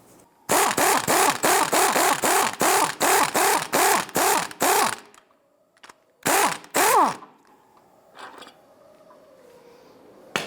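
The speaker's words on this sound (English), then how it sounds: "We're going to use our 18mm socket to go ahead and loosen and remove this upper nut." An 18mm socket on a power tool loosens the upper strut nut on a 2005-2010 Chrysler 300, a loud close rapid burst of repeated rattling hammering, then a short second burst and a few faint clicks.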